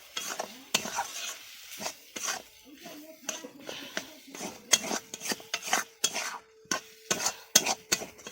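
A spoon stirs masoor dal in a pot, scraping in a series of short, irregular strokes close by, with a soft simmering hiss underneath.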